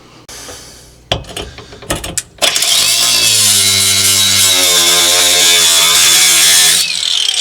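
A power tool cuts through a car's sheet-metal floorboard during a four-speed swap in a Nova: a few short rattling bursts, then a loud sustained grinding whine lasting several seconds, close up with no talk.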